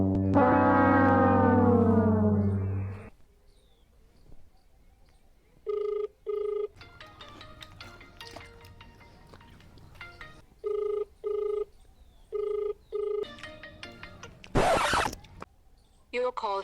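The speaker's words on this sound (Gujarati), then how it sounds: "બા ફોન નથી ઉપાડતા, પાછો ફોન કરું." An outgoing phone call rings unanswered: after a voice speaks at the start, an electronic ringback tone repeats in evenly spaced bursts, clear and close, with a brief loud noise near the end.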